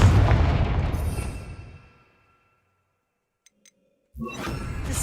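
A Confringo blasting spell explodes in Hogwarts Legacy with a loud, close boom that fades out over about two seconds. Silence and a couple of faint clicks follow, then another burst of noise rises.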